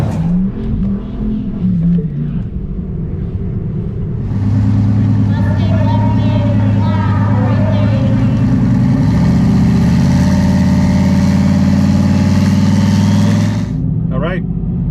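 A turbocharged SN95 Mustang revs and launches against a Tesla Model S Plaid at a drag strip, a loud engine drone rising steadily in pitch through a sustained pull, under excited commentary.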